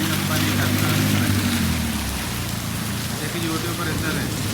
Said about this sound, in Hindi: अभी बारिश जो है वो थोड़ी कम हो रही है और बल्कि रुकने वाली थी।